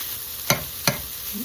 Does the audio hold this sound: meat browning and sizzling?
yes